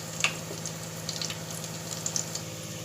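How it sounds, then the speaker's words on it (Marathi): Tempering crackles and sizzles in a pan for khengat, the mixed vegetable and dal dish cooked for Bhogi; the frying hiss is steady and low, with a few sharper pops near the start. "भाजीला फोडणी दिली मस्त पैकी"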